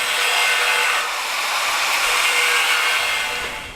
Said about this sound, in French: pour la première fois, découpe du métal